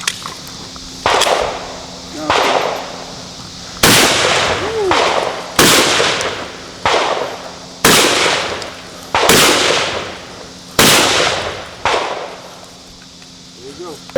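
A semi-automatic Benelli-style shotgun fired at an outdoor shooting range, seven loud, close booming blasts spaced a second or two apart, each trailing off in a long echoing decay.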